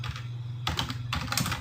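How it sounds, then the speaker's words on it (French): Typing on a computer keyboard during a Sublime Text install on Windows: quick bursts of key clicks with a brief pause between, close and steady over a low hum, with no one speaking. "tu vas taper simultanément sur les touches CTRL, majuscule et P de ton clavier"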